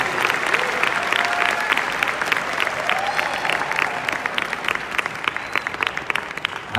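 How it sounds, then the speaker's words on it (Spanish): A festival audience at Círculo de Oro claps in sustained, dense applause throughout, loud and continuous with a crowd murmur beneath. "Vamos a darles un fuerte aplauso"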